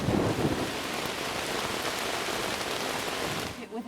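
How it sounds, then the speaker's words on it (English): Heavy rain pours down in a dense, loud, continuous roar of drops on surfaces, close by, with a low rumble beneath and a sudden drop-off at the end. "It's been raining 7 hours. It's getting worse."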